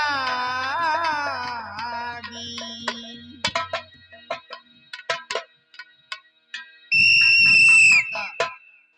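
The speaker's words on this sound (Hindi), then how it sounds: "सीटी क्यों बजा रहा था?" A whistle blown during a Ramlila stage performance, heard first as long wavering shrill tones, then sharp repeated chirps, and finally a loud sustained blast near the end.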